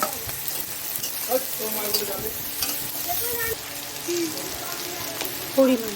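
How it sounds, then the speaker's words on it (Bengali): Onions and green chilies fry in hot oil in a pan, with a steady close sizzle, a few stirring scrapes and utensil clinks, and faint voices in the background. "পেঁয়াজ দিয়েছি, লঙ্কাগুলো দিয়ে দিচ্ছি।"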